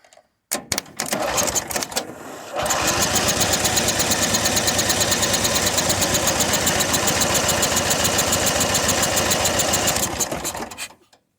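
A Cub Cadet 1641 garden tractor engine cranks over steadily with a loud, continuous mechanical churn lasting about eight seconds after a few brief stutters, then cuts off.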